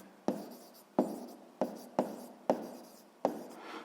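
Pen strokes on paper while an exercise from a sixth-grade maths lesson is written out: six sharp, scratchy strokes at a steady pace, each starting abruptly and fading quickly, close and clear with no talking.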